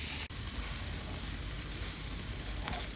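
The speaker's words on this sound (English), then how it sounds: "We got some more burgers on the grill going." Portobello mushrooms and burgers sizzle steadily on a grill, a loud continuous crackling hiss with one brief dip near the start and no talking.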